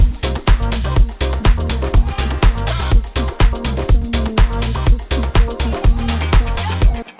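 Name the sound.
disco house drum loop with open hi-hats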